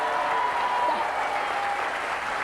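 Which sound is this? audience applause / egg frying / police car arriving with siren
audience applause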